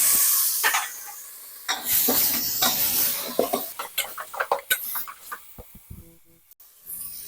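Pork bones stir-fried in a pot over low heat with garlic and shrimp paste, giving scraping stirs and soft sizzling in irregular bursts, close and moderately loud, with no talking.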